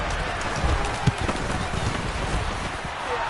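Steady rain hiss in a football video game, a Packers versus Jaguars matchup, with faint muffled thumps scattered through and no clear voices.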